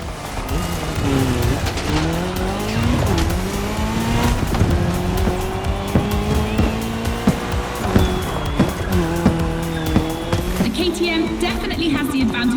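Engines roar continuously as a car and a motorcycle race in The Crew Motorfest, a Puma car against a KTM bike, with rising and falling revs and tires squealing through the run.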